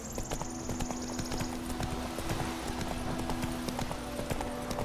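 Roach the horse trots along in The Witcher 3, hooves clip-clopping in a steady, close rhythm over a low ambient hum, with no voices.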